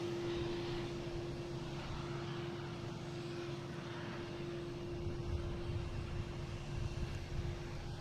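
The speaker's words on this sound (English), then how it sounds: "Another Dash 8 from Toronto" A Porter Dash 8 turboprop airliner arriving from Toronto at Boston Logan, a steady droning engine roar with a sustained propeller tone, continuous and moderately distant for the whole stretch, with no voices.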